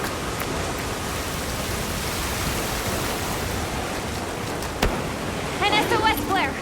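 Heavy rain downpour in Monster Hunter Wilds, a loud steady hiss of falling water throughout, with a sharp crack near the end and a voice speaking over the rain at the close.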